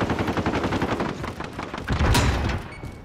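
Rapid bursts of gunfire in Call of Duty: Modern Warfare, dense overlapping shots with a louder blast near the end, fairly loud and close with no talk.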